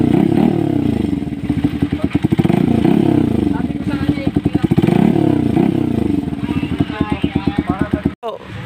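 A Honda TMX 125 motorcycle fitted with an SC Project exhaust is revved hard up close, with repeated rising and falling bursts of engine roar in a steady rhythm over about eight seconds.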